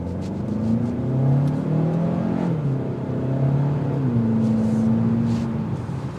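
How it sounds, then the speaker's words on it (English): A 2024 Hyundai Elantra N-Line's exhaust drones as the engine accelerates, pitch climbing through gear changes, then settling into a steady hum; continuous and fairly close. "The exhaust note will filter in"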